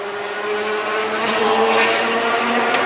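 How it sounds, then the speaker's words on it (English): Race car engines roar loudly and continuously at Autoclub Speedway, a dense high-pitched whine as the cars pass close by on the front straightaway. "the cars coming onto the front straightaway"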